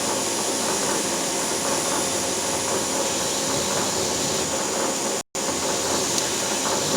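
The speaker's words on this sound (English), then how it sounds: "So I'm going to put the countersink in here." A CNC machine cuts a countersink into a hardened part for a 1845C skid steer, producing a loud, steady broadband machining roar that cuts out for a brief instant before resuming.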